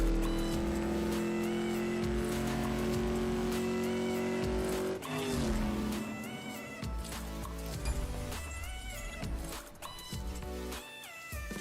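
A car race in the mobile game CSR2, with a steady engine drone that shifts pitch through gear changes, loud and continuous, overlaid with game music and effects.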